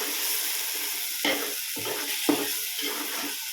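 Chicken for Karnataka-style donne biryani sizzling and sautéing in a pan, a steady frying hiss broken by a few sharp stirring scrapes, with no talk.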